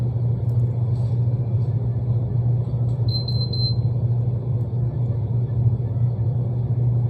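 Busy transmission repair shop ambience: a steady, loud low rumble and engine hum from vehicles fills the space, with a brief faint high whine partway through and no clear voices.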